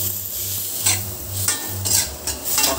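Pork liempo cooking in a pan for paksiw na bangus with bagoong: a steady sizzle with repeated scraping strokes of a utensil against the pan, close and fairly loud, with no talking.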